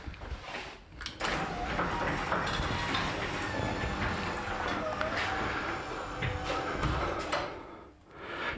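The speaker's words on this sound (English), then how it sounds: "I'll just shut the garage door." A garage door rattles and grinds along its track for several seconds with a mechanical clatter, ending in a final thud as it closes.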